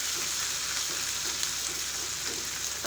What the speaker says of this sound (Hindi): अदरक लहसुन का पेस्ट डाल के भी हमने इसको अच्छे से मिक्स कर लेना है और थोड़ा सा हम भून लेंगे